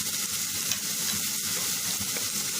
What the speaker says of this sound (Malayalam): ഇതിൻ്റെ പച്ചമണം മാറുന്നത് വരെ ഒന്ന് നല്ലതുപോലെ വഴറ്റിയെടുക്കുക.